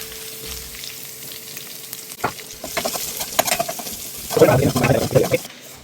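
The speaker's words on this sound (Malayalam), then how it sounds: "നമ്മൾ രണ്ട് സവാള അരിഞ്ഞത് നമ്മൾ ഇതിനകത്ത് ഇട്ടിട്ടൊന്ന് വഴറ്റിയെടുക്കണം" Two chopped onions sautéing in a pan, heard as sizzling and crackling with clattering stir strokes that grow busier and louder toward the end, starting from a quiet hum and a faint distant bird call.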